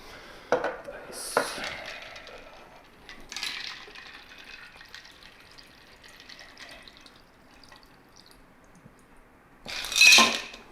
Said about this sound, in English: Lots of ice. Make sure you always fill your cocktail glasses and up to the rim.